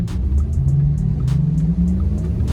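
A Porsche Taycan Turbo S electric car accelerates with a rising, futuristic synthetic drive tone over a continuous low road rumble, heard from inside the cabin at steady high loudness.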